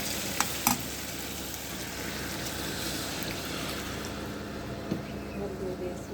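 Broth going into a frying home-style curry, a dense steady sizzle with a few sharp clanks of utensil on pot near the start, faint talk in the background.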